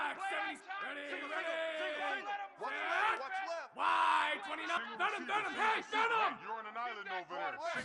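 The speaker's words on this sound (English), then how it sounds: "Tremendous crowd atmosphere now in the final minute of play." A big stadium crowd at a Georgia versus Texas college football game roars, yells and whoops continuously through the final minute, loud and dense, with surges of cheering.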